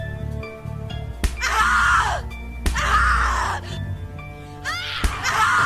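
A character in the horror video game The Cat Lady lets out several loud, drawn-out screams and groans in quick succession, each starting with a sharp hit, over a dark, droning musical background.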